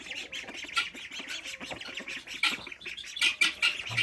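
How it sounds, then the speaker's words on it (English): Young ducklings just out of the brooder on a small farm give a steady run of high, overlapping peeps and squawks nearby, busy and continuous with no talking. "Now the baby ducks, they're out of the brooder now."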